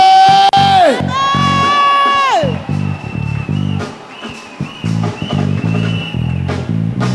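A church congregation cheers and shouts in praise of Jesus, starting with sustained loud whoops and cries, then breaking into rhythmic bursts of crowd acclaim.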